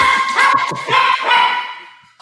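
A dog barks and yips in a few loud, close bursts that trail off into a fading whine, heard alone without talking.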